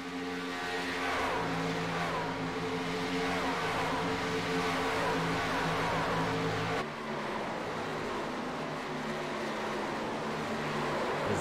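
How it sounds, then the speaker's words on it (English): Racing trucks accelerate on a track, their engines building into a loud, sustained roar of rising harmonic tones before the pitch shifts as one passes, with the engine noise continuing at steady volume afterward. "The 6 here of Brad Neer is on the loud pedal, and he is starting to chase down those leaders"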